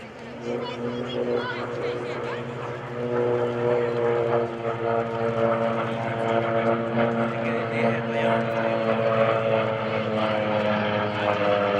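A Curtiss SB2C Helldiver, a propeller-driven dive bomber at a military air show open house, passes with a steady, droning engine roar that swells slightly as it nears, with an announcer talking over it.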